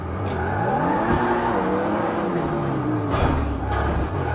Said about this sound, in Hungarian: Boxer motoros, azért van olyan hangja.